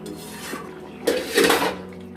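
Spoon scraping and clinking against a pot while stirring a country-chicken curry, two or three close knocks and a longer scrape against the metal.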